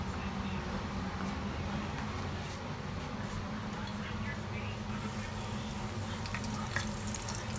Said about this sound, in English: Now we put this in the grease.